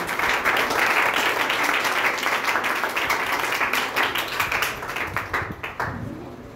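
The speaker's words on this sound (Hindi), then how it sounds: "तो एक बार सर के लिए और सिस्टम के लिए जोरदार तालियां हो जाए।" A session audience breaks into loud, sustained applause, dense clapping that holds steady and then thins into scattered individual claps toward the end.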